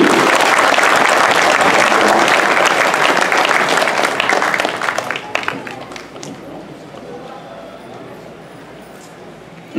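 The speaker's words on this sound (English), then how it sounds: "Let's give a big round of applause to Murali Krishna ji." Loud audience applause for Murali Krishna ji at a Sri Lakshmi Narayan Kalyanam ceremony, dense clapping from a crowd that fades halfway through to a few scattered claps.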